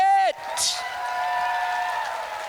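Applause and cheering from an audience at a slam poetry event, rising after a brief tone at the start and holding as a steady wash of clapping and whoops for a couple of seconds.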